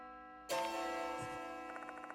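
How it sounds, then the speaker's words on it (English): Clock tower bell in the video game Death Mark 2 strikes once, sharp and resonant, then hums and slowly fades in a long ringing tail. "The bell is ringing."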